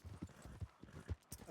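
A horse's hooves clip-clop in Red Dead Redemption 2 in a steady, unhurried rhythm of dull thuds, mid-distance and moderately quiet.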